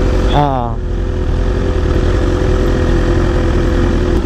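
A BMW big bike's large engine idles loud and close with a steady, rumbling drone; a short voice is heard briefly over it at the start.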